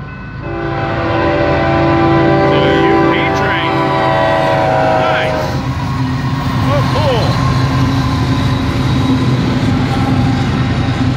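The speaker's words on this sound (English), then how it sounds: "Union Pacific Stack Train." A Union Pacific double-stack freight train rumbles past a railroad crossing up close with a loud, steady roar and a sustained horn blast early on; a voice speaks briefly.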